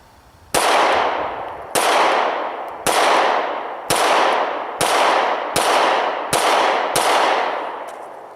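Eight sharp, loud pistol shots from a Smith & Wesson M&P 9 Shield 9mm, fired one at a time at a slow, roughly even pace, each crack followed by a short ringing decay at an outdoor range.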